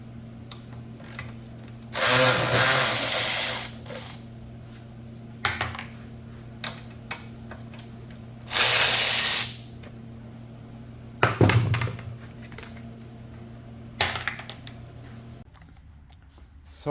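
Ratchet tools click and whir as the chain guard comes off a Coleman BT200X minibike, with two longer loud bursts of ratcheting among scattered short metallic clicks and taps, close by and with no talking.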